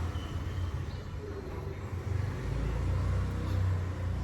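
Outside traffic noise of passing vehicles heard from indoors, a steady low rumble that swells slightly toward the end, continuous and moderately faint.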